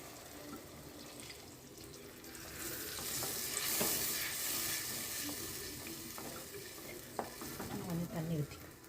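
Spices for a neem flower kuzhambu are stirred in a pan in a village kitchen, with soft sizzling and frying, scraping strokes and a few clinks growing busier toward the end, and no talking.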